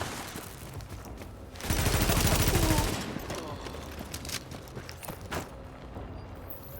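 A deployed automated turret in the tactical shooter The Division fires a sustained loud burst of rapid gunfire for about a second, followed by scattered lighter shots and clicks in the background.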